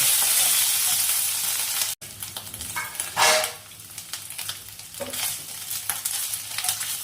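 Spices with green chillies, ginger paste and soaked raisins sauté in oil, making a soft, continuous sizzle broken by a sharp click and intermittent stirring scrapes, fairly close and moderate in volume.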